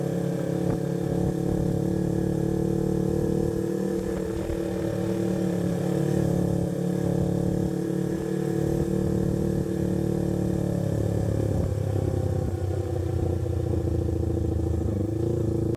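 A motorcycle engine drones steadily while riding, a continuous low rumble with wind noise and slight rises in pitch, moderately loud and unbroken without talk.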